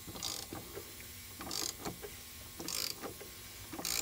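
A 32 socket on a ratchet tightening the oil drain plug during a Toyota Supra oil change: close, repeated clicking ratchet strokes in short bursts, with quieter metallic ticks between them.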